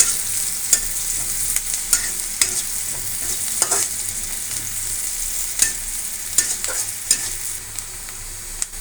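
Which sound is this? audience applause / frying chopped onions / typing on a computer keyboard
frying chopped onions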